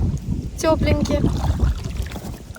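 Strong wind buffets the microphone outdoors by a river during a fishing trip, a steady low rumble of gusts running under a woman's brief speech.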